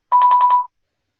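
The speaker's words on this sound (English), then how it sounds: "You just hear a beeping noise?" Electronic beep from a Bluetooth device as it is plugged in during a live online Python class: a single steady tone pulsing about five times in quick succession, loud and clear, then silence.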